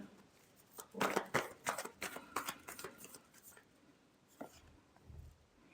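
Tarot cards shuffled by hand, a run of crisp riffling flicks and slaps in quick bursts that slow toward the end, close and fairly quiet, with a soft low thump near the finish.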